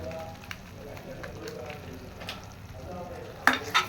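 Onion and tomato frying in a pan, stirred with a utensil, giving a low steady sizzle with soft scraping and a sharper clatter near the end.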